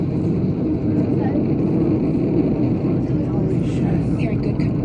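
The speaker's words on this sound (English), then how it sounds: "5 engines on the core stage and 2 solid rocket boosters now propelling the vehicle at 120." Artemis 1 launch with the five core stage engines and two solid rocket boosters firing, heard as a steady, dense, low rumbling roar that holds without a break throughout.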